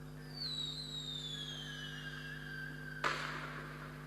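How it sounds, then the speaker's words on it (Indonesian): Fireworks launch at a festival: rising whistles glide downward over about three seconds, then a single sharp burst cracks near the end, with a steady low hum underneath. "Acara final dari festival itu ditutup dengan peluncuran kembang api"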